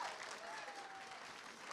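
Audience applause at an awards ceremony, a steady dense wash of clapping from a room full of people, sustained and even for the whole stretch with no break.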